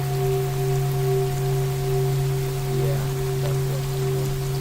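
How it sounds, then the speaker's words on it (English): Steady recorded rainfall plays in the background as a continuous, even wash during a study session, with sustained tonal hums running underneath and a brief spoken word. "I'm gonna turn on the rain sounds."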